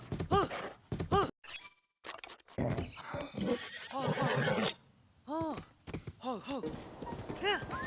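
Giant horse in a Zelda game neighing several times with hoof clip-clops in between, fairly close, with a voice speaking and groaning in places.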